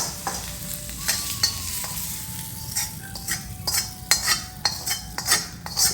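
Utensil scraping and stirring in a pan as spice tempering is mixed into appam batter, with light sizzling from frying seasoning, steady and close throughout with intermittent clinks of metal.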